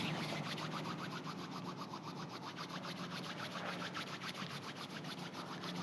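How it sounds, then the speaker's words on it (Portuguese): Both palms rubbed briskly together in a steady back-and-forth swish, close and continuous with even rhythm, no voices. "Então vamos começar esfregando as duas mãos."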